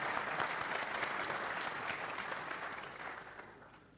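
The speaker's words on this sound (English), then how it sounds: "Big round of applause for Mr. Jeff King." An audience at a talk applauds steadily for about four seconds, a full, even round of clapping that gradually fades, with no talking over it.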